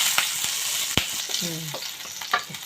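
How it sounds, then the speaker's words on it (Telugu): Chopped green chillies and cumin frying in ghee for street-style chaat, a close crackling sizzle with sharp spatula taps and short scraping stirs against the pan. "మిరపకాయలు కూడా కొంచెం వేగాలి."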